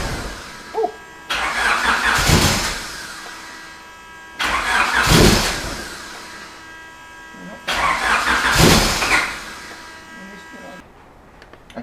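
A Honda Civic EG with a B20 VTEC engine cranks over in three separate bursts of whirring starter and engine noise, each lasting a couple of seconds, with quieter gaps between them and talk in the background.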